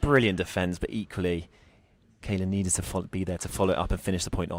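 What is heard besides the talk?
No everyday noise stands out behind the speech.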